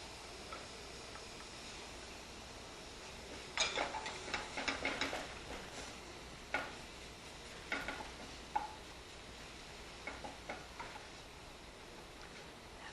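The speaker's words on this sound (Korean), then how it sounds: "이렇게 해서 고기를 넣고 볶아주세요." Meat and shiitake mushrooms are stir-fried in a pan under a soft continuous sizzle, broken by scattered scraping, stirring bursts and a few sharp utensil clicks, with no talking.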